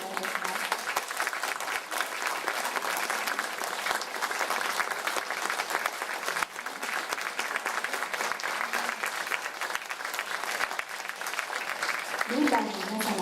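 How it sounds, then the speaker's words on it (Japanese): A seminar audience applauds steadily after an Andean folk music performance, dense sustained clapping at full strength throughout, with a voice entering near the end. "大きな拍手をお願いいたします"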